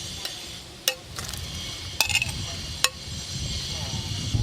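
Pasta being stirred by hand with fresh basil leaves and fried eggplant, soft continuous mixing rustle with a few sharp clinks of a utensil against the pan near the start and middle.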